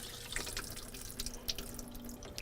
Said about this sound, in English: empty the water pan by taking the water valve, the water cap off, allowing it to completely drain